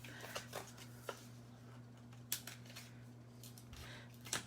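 A craft knife slices open a cardstock crafting package with several crisp, scattered cuts and scrapes over a steady low electrical hum, close and fairly quiet.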